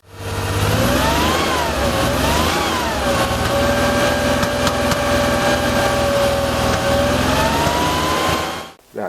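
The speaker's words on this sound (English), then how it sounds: "You could hear popping in the exhaust." A Porsche engine with C.I.S. fuel injection runs and revs unevenly, its tone rising and falling, with a rough irregular misfire note and faint popping in the exhaust.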